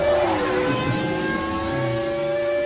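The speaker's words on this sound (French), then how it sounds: "le son d'une moto, là, en passant." A motorcycle passing by on the road, its engine tone rising and then holding steady as a sustained, fairly loud drone with no talk over it.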